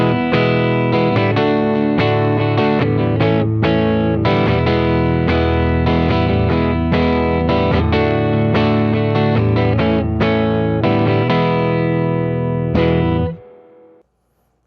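A Kurt Cobain Fender Jaguar electric guitar on its rhythm circuit with the neck pickup alone plays dark, distorted rhythmic chords, loud and steady, before being cut off abruptly near the end, with no talk.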